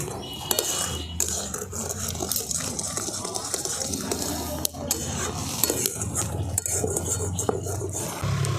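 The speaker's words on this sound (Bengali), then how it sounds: "এরপর সমস্ত কিছু আমি একসঙ্গে খুব ভালো করে মিশিয়ে নিচ্ছি" Sandesh ingredients being mixed together in a pan, with continuous scraping and stirring of a utensil against the vessel, close and steady throughout with occasional louder knocks.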